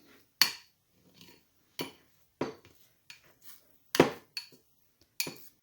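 Chopped dried cranberries being mixed into soft cheese in a bowl, with a series of separate clinks and scrapes of a utensil against the bowl, fairly faint with quiet gaps between.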